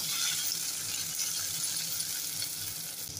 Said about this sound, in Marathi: छान परतून घेऊया. आता आपण बटाटा घालूया. बटाट्याची फोडी घालूया.